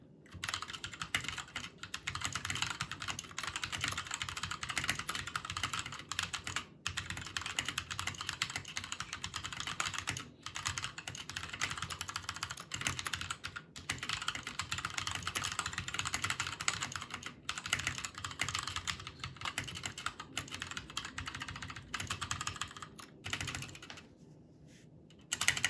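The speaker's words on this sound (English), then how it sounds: "I really like the feel and sound of the Gatoron Browns that I have in my particular keyboard." Steady typing on a DREVO Blademaster TE mechanical keyboard with Gateron Brown switches, a fast continuous clatter of tactile key presses up close, with brief pauses, no voices.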